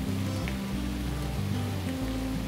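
Steady rain falls on a mountain trail during the descent from the summit of Gunung Tandikek, a dense, continuous hiss with low rumbling underneath, even and unbroken throughout.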